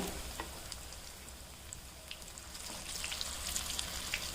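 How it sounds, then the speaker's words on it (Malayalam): Jackfruit seed vada fry in hot oil with a faint, steady crackle and a few small pops, the sizzle swelling slightly louder toward the end. "ഒരു സൈഡ് അങ്ങനെ മൂത്ത് വന്നിട്ടുണ്ട് നമുക്കിതൊന്ന് തിരിച്ചിട്ട് കൊടുക്കാമേ"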